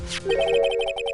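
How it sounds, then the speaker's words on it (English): A mobile phone ringtone in a courtroom game plays a short bright electronic melody of quick repeated tones after a brief opening swish, loud and alone. "I heard a phone ring just now."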